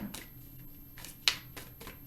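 Soft riffling and tapping of tarot cards being shuffled in short bursts, close and quiet, with one sharper snap near the middle.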